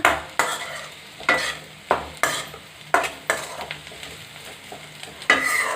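Onions sautéed with salt in a pan for a Kanava squid chilly fry, a spatula scraping and stirring in steady strokes, roughly every second, over a constant close sizzle, with no voices.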